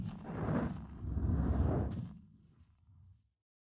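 A Krupp 77 mm quick-firing cannon gives a muffled, rumbling boom that swells, carries on for about two seconds and then fades into a low tail and silence.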